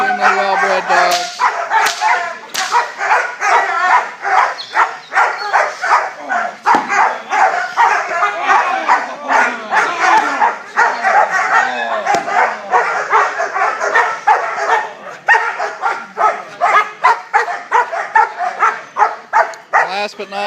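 Young, well-bred personal protection dogs bark rapidly and without pause, loud and close, in a dense run of sharp barks with yips and whimpers mixed in.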